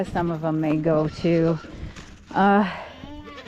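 Farm goats bleat several times in short wavering cries, close and loud, with a person talking over and between the calls.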